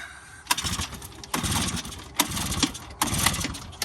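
The small engine on a kid's bike fires and runs in four bursts, each a buzzing, sputtering rev lasting under a second with short drops between, close and fairly loud, with no voices.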